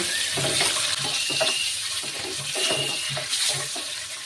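Eggs frying in oil in a pan, lightly salted and cooked until browned and crisp; a steady close sizzle and crackle with faint rhythmic scraping, no voices.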